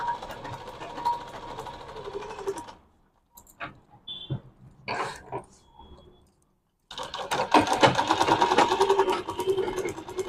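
A sewing machine stitches a fabric bag in two loud, steady bursts of rapid mechanical whirring, separated by a quieter stretch of small clicks and handling noises.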